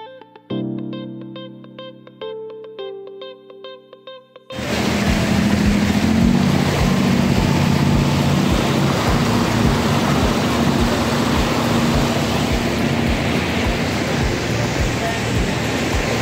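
A boat runs out on the sea off Sardinia, its engine and rushing wash making a loud, steady roar with rhythmic thumps of the hull, after a short stretch of plucked music.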